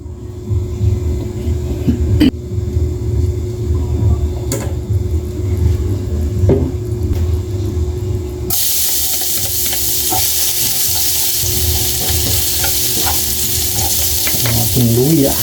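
Ginger sautéing in a pan for adobo sa gata, a steady loud sizzle with stirring scrapes; partway through the frying swells into a brighter, fuller hiss that holds to the end.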